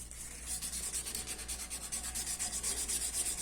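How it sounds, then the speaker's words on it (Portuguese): Sandpaper rubbed back and forth on a violin chinrest in steady rhythmic strokes, a close, soft, continuous scratchy rasp with no talking. "Começa com uma lixa mais grossa. Passa com uma lixa média."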